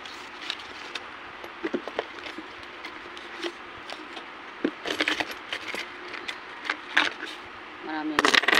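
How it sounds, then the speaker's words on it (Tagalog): Coins from a piggy bank, including pesos, are dropped and counted at home, giving irregular metallic clinks and jingles that cluster toward the end, with soft talk underneath. "Marami na barya."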